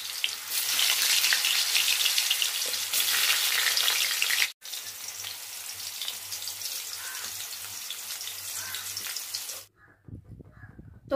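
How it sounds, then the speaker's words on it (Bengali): Potatoes frying in hot oil in a kadai, a loud steady sizzle running almost unbroken with a brief cut midway, then fading into quieter crackles at the end. "তো আগে আলু দিয়ে শুরু করলাম ভাজা।"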